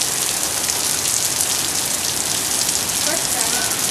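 Steady rain pours down onto surfaces outside on a school day, a dense, even hiss of drops filling the whole stretch without a break.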